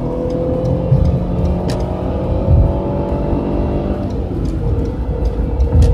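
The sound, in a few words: car engine revving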